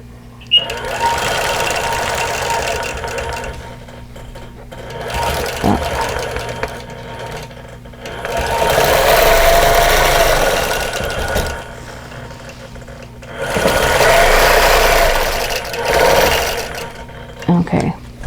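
A sewing machine stitching in the ditch on a quilt runs in several bursts of rapid, buzzing stitching, with brief pauses between runs and handling noises nearby.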